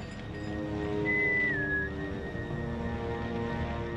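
A single clear whistled note rises, holds and then slides downward over a steady outdoor ambience, a person whistling while walking through bear country.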